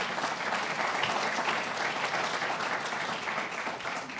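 Steady, dense audience applause at a White House summit on climate-resilient communities, a continuous wash of many hands clapping at moderate volume for the full stretch without a break.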